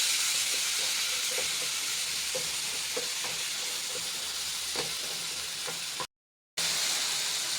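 Tomatoes and green chillies sauté in a pan for tomato chutney, giving a steady close sizzle broken by soft stirring clicks, with a brief dead-silent break near the end.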